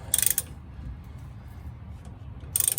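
A ratchet wrench works a shock absorber bolt on a Chevrolet Silverado during a Bilstein 5100 install. Two short bursts of rapid, crisp clicking come at the start and end, with a quiet low rumble between them.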